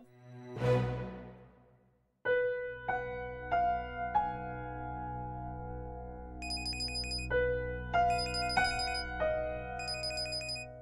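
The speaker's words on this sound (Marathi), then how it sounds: "तुमचा फोन बोंबलतोय." A phone rings close by with an electronic melodic ringtone, a short chime followed by a repeating tuneful pattern of bright tones that keeps going steadily, with no one talking.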